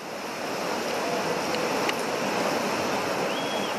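Ocean waves at the Rangiroa surf spot roar in a steady, dense wash of breaking surf with some wind, continuous and loud throughout with no voices.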